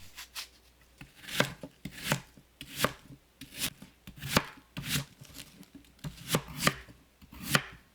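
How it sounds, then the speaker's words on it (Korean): Half an apple, cored, being sliced with a knife on a cutting board while preparing young radish kimchi; a steady run of crisp, separate knife strokes with a regular rhythm, close and fairly clear, with no talking. "사과 반 개를 씨 제거하고 썰어 주세요."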